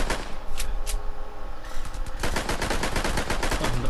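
Video game gunfire in a dinosaur egg hunt opens with a few separate shots, then breaks into a fast, loud automatic burst that keeps up without pause to the end, with no talk.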